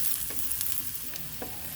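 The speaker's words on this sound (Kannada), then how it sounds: "ಈರುಳ್ಳಿ ಸ್ವಲ್ಪ ಕಲರ್ ಚೇಂಜ್ ಆಗೋ ತನಕ ಫ್ರೈ ಮಾಡ್ಕೋಬೇಕು" Chopped onion frying in a pan for shavige pulav (vermicelli pulao): a soft, steady sizzle broken by a few light stirring scrapes, with no talking.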